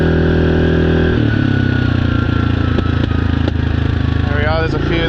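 A Yamaha Grizzly 700 ATV with its AIS blocked off running loudly nearby, a steady engine drone broken by a few gentle exhaust pops and a brief rev near the end.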